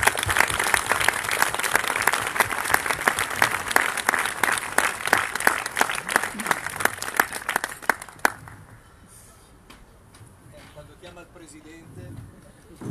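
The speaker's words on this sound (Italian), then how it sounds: "Dino Di Resta, che accoglierei con un grandissimo applauso" Loud audience applause fills a stage event for Ascoli Calcio and Bricofer as Dino Di Resta of Moretti Design is welcomed, dense clapping for about eight seconds before cutting off, followed by quieter room noise and faint voices.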